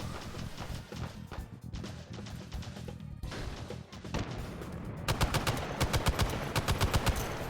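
Gunfire in the VR shooter game H3VR (Hot Dogs, Horseshoes, and Hand Grenades) on Quest 2, with an M60 and a shotgun: a dense run of loud shots that speeds into a fast, even automatic burst near the end.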